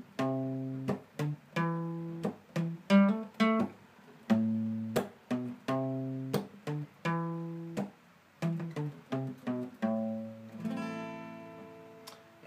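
Acoustic guitar picking a song's bass line: single low plucked notes in a steady, repeating rhythm, played close and fairly quiet, ending on a brief ringing strum.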